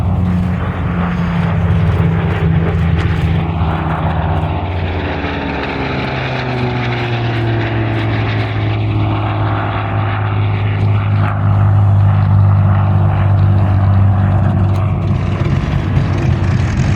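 A World War II propeller airplane makes a low photo pass at an air show, its engine droning steadily and loudly throughout with a slowly shifting pitch as it goes by.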